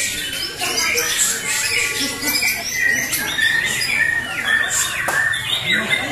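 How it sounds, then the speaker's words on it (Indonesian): White-rumped shama (murai batu) birds sing against each other at a bird-song contest at Cikeas. Dense, loud, overlapping chirps, whistles and trills run without a break. "Serunya bro, pertarungan burung murai batu berkualitas, saling tembak-tembakan bongkar isian."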